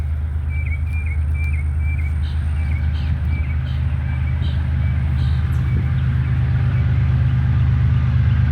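Three freight train locomotives idle at the head end of a train, a steady close diesel rumble droning throughout, with faint birdsong chirping above it.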